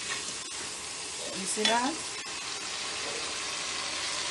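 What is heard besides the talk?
liver frying in a pan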